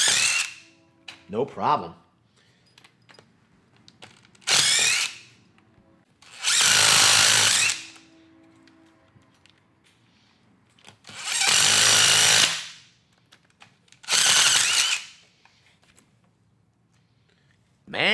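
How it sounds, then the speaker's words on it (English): A DeWalt impact driver backs Tapcon screws out of concrete in loud, repeated hammering bursts of one to two seconds each, separated by pauses with brief talk and small tool clicks. "What we could try to do is back out some of these Tapcons that we've previously driven."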